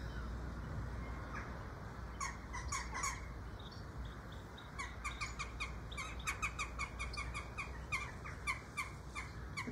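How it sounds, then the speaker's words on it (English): Several birds calling outdoors, harsh caws repeating in bursts over a steady background rush, moderately distant. "The birds have all decided to come out and play now."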